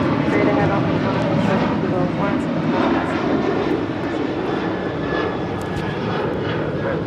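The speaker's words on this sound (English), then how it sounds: "This is United Airlines Flight 1647 departing to Denver, Colorado on a 737-800" United Airlines Boeing 737-800 bound for Denver departs LAX with a continuous loud jet engine roar, steady and broadband throughout, while faint voices sit beneath it.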